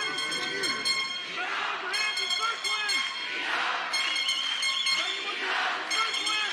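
A packed arena crowd roars steadily with sustained horn blasts sounding over it at a wrestling world championship final in Norway in 2021, the cheering swelling and falling in loud waves throughout.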